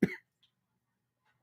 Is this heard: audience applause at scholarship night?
no